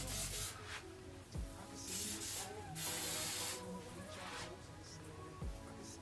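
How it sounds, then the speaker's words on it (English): A spray bottle mists product onto ginger knotless braids with wavy ends, giving several short hissing bursts in a loose rhythm over quiet background noise. "I'm gonna spray some more of this."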